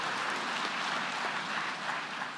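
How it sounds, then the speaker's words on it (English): Steady applause from a crowd at an academic opening ceremony, a continuous wash of clapping with no voices on top, holding even throughout. "Let's give them another applause."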